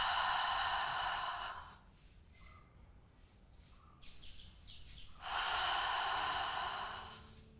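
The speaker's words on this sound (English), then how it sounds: "So you breathe out on the hand, breathing out through the mouth." Breath is blown out through the mouth onto a hand in a yoga practice, two long, breathy exhales separated by a quieter pause, close and soft.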